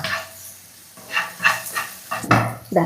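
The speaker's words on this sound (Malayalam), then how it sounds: "നമ്മുടെ വെണ്ടക്കായ നോക്കിയാൽ ഒന്ന് വഴറ്റി എടുത്തിട്ടുണ്ട്" Okra sautés in a pan with salt and turmeric. A steady low sizzle is broken by several louder scraping bursts from stirring.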